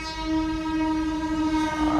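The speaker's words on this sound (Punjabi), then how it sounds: "ਇਹ ਤਾਂ ਮਾਲ ਗੱਡੀਆਂ ਦਾ ਰਵਾਜ ਹੈ" A freight train at a level crossing sounds a long, loud, steady horn blast close by, with the rumble of the passing rail wagons underneath.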